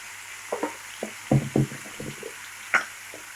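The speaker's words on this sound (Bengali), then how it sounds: "এটাকে আমরা ভালো করে ভেজে নেব।" Papaya and potato pieces frying together in a pan, with soft sizzling under scattered knocks and stirring scrapes of a utensil, close and moderately quiet.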